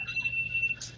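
Phone alarm going off, a thin steady high electronic tone that pulses faintly over a low background hum, brief and unaccompanied by talk.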